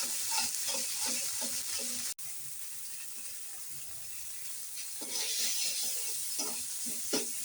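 Ginger, garlic and onion fry in a pan, with a strong, steady sizzle and repeated stirring scrapes close up. The hiss briefly cuts out once before resuming just as loud.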